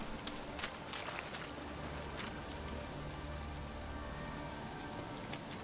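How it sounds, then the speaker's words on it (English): Steady rain pours in The Witcher 3, a dense, even hiss of falling drops that fills the scene without pause, soft and continuous with no voices over it. "下雨了。"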